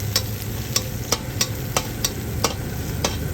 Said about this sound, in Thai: เจียวกระเทียมให้หอมให้เหลืองขึ้นมาเลยนะคะ